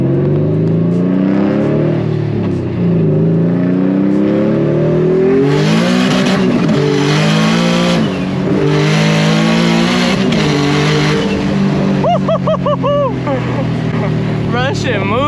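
A single-turbo HR-swapped Nissan S15 making about 455 horsepower roars through a full pull on a dyno, the engine climbing steadily in pitch with a sharp shift partway, loud and close, while people talk and react over it.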